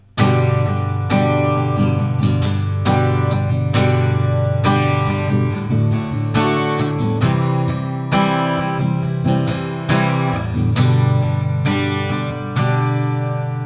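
Acoustic guitar strummed without a pick, using the index finger and thumb pinched together: full, steady chords ring out loud and close in a continuous rhythm with regular accented strokes, with no talking over it.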